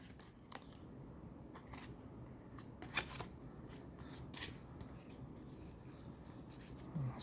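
Hockey trading cards from a 1996-97 Collector's Choice pack being shuffled and flicked through by hand, a quiet steady rustle broken by a few sharp snaps, close and soft, with no voices.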